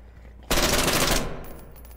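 A sustained burst of rapid automatic gunfire in the shooter game SCP Pandemic, loud and close for under a second, followed by a fading tail and faint high-pitched ringing.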